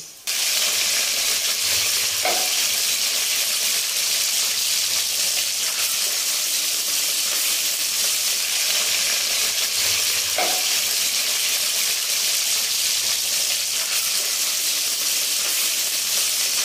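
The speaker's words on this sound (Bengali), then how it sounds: "ভালো করে এটাকে আমি এবারে কষিয়ে নিচ্ছি" Potatoes, spring onions, peas, turmeric and cumin powder sizzle steadily in a kadai as they are sautéed for a katla fish curry, a continuous close frying hiss with occasional faint stirring scrapes and no talk.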